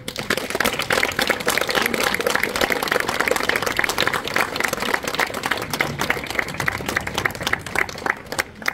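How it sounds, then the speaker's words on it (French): Sustained, dense applause from an audience at a commemorative ceremony in Hermes, Oise, with many hands clapping steadily for several seconds before thinning slightly at the end. "Je pense qu'on peut les applaudir."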